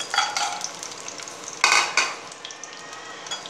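Green chillies dropped into a hot pan with red chillies, curry leaves, tamarind and garlic for coriander chutney, a close sizzle with scraping stirs and a louder burst of frying midway.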